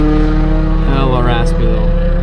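Raspy exhaust note of a tuned BMW M2 Competition F87 or M4 with a manual gearbox, a loud, close, harmonically rich engine drone that rises briefly in pitch mid-clip, heard alone over about two seconds.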